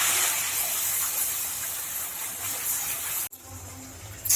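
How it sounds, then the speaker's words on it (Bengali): Palm-fruit luchi dough frying in hot white oil gives a steady broadband hiss and sizzle that carries on for about three seconds. The sound then cuts off sharply, and a quieter sizzle resumes afterward. "এবার আমি ভেজে নেব। দেখুন সাদা তেল গরম করে নিয়েছি"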